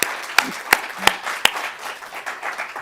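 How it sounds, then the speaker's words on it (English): A handful of sharp, scattered claps ring out, a few distinct hits over a light crowd murmur, thinning rather than building into full applause. "let's give another round of applause to our fabulous moderator and panel"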